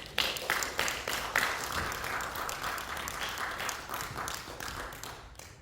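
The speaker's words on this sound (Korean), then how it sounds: "우리 목사님 나오실 때 한번 큰 환영의 박수로 맞이해 주시면 감사하겠습니다" A church congregation in Atlanta gives welcoming applause as a pastor comes forward, with dense, even clapping filling the room and slowly tapering toward the end.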